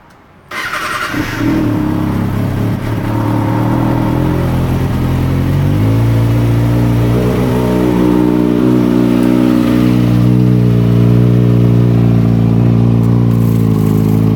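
A Kawasaki ZX-6R motorcycle engine starts and then idles loudly nearby, holding a steady, throbbing low rumble for the rest of the clip.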